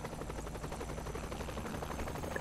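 A helicopter flies in the video game Saints Row The Third, a steady, rapid rotor chop with a low engine drone, fairly quiet and continuous with no talk over it.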